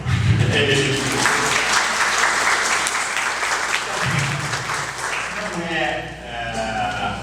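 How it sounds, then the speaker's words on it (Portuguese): An audience at a symposium claps steadily and loudly for several seconds, the applause filling the space and tapering slightly near the end. "Bata palmas, por favor."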